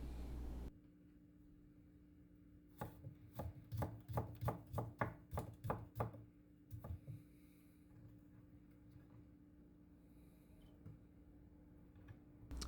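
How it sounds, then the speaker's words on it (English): A knife chops food into small strips on a board, a quick burst of about a dozen crisp, evenly spaced cuts, then a few scattered taps over a steady low hum. "And then I cut those into small strips"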